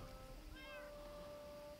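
A cat meows once, a short rising call heard clearly over a steady background hum and faint room noise.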